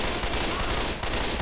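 Rapid automatic gunfire from the zombie shooter Left 4 Dead 2, a dense continuous burst that stays loud and steady throughout with almost no gaps between shots.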